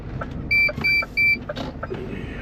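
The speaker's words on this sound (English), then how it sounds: "this horrible DVS rubbish in their cab that goes beep, beep, beep for absolutely no reason" A lorry cab's DVS warning system sounds three sharp, evenly spaced electronic beeps, close and clear over the low rumble of the cab, followed by quieter engine noise.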